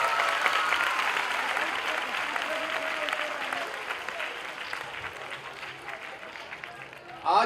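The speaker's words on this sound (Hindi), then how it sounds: "एक जोरदार ताली इनके लिए।" An audience claps loudly and steadily throughout, a thick continuous wash of applause for a band of visually impaired players at a celebration event, with faint voices underneath.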